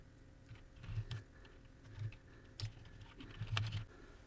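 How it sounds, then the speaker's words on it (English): Keys tapped on a computer keyboard while an email address is entered in Microsoft Excel, with a few scattered soft clicks over a quiet room hum and no voices. "in this box here, you want to type the email address you want to hyperlink the image to."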